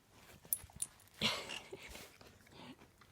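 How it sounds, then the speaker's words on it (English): A dog close by indoors makes soft whimpering and snuffling sounds in short uneven bursts, with a brief louder rustle in the middle. "Dog."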